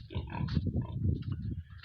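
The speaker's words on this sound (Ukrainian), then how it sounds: "Зараз перейдемо до поросяток наших і покажу вам поросяток" Piglets grunting steadily at close range, a dense overlapping chorus of short low snorts and squeals with no pauses.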